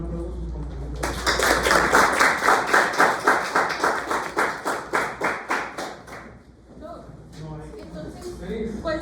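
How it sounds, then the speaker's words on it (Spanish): Students in a pharmacology class applauding their classmates, a loud burst of rhythmic group clapping in steady unison beats that fades after several seconds, followed by voices talking. "Un aplauso a sus compañeros."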